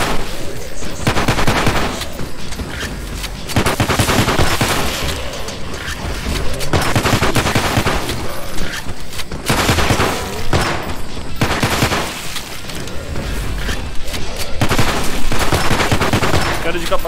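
Sustained automatic gunfire from the VR shooter Chornobayivka VR, loud dense bursts rattling almost without pause for the whole stretch, with a voice faintly beneath.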